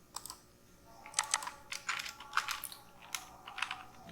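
Typing on a computer keyboard, a quiet run of irregular clicking keystrokes heard close and alone.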